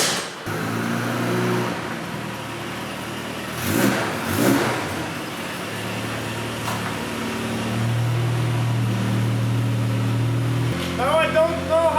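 A Volvo 740 fitted with a changed exhaust idles and is revved several times, the engine note rising and falling in short bursts with a low, throaty drone between them. It sounds close by, and a person speaks briefly.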